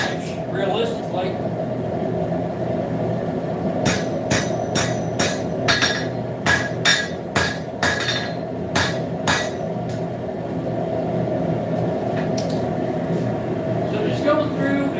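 Rapid hammer blows ring out on hot steel stock being flattened at a forge, a burst of about a dozen sharp metallic strikes in quick rhythm over a steady shop hum, with a few scattered taps before and after.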